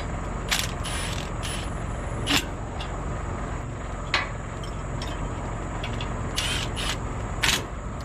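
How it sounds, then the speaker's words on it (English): A ratchet clicks in short bursts while tightening the caliper bracket bolts on a trailer disc brake conversion, with sharp spaced clicks over a steady low background hum. "Go ahead and tighten up this caliper bracket."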